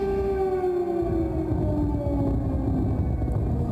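An air raid siren in Kyiv, Ukraine, wails steadily in a long, sustained tone during wartime attacks, with a low background rumble underneath.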